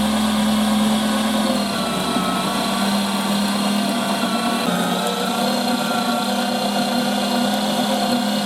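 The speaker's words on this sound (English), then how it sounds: "We will grind the beef one more time with spices and garlic too." A meat grinder works beef together with spices and garlic, giving a loud, steady motor hum with a constant whirring drone and slight shifts in load as the meat feeds through, with no talking.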